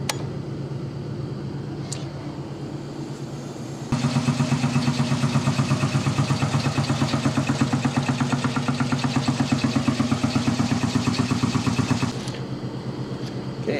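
A shop air compressor kicks on with a sudden jump in level and chugs loudly with a steady rapid pulsing for about eight seconds before cutting back to a lower hum.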